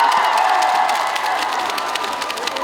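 A festival concert crowd at the 2023 Mungyeong Apple Festival applauds and cheers loudly, with dense clapping, whoops and shouts forming a steady roar that eases slightly toward the end.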